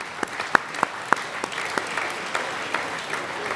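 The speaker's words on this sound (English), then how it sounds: "Give yourselves a round of applause" An awards-evening audience at the Football League Awards gives itself a round of applause, a continuous wash of clapping with a few sharp close claps standing out near the start.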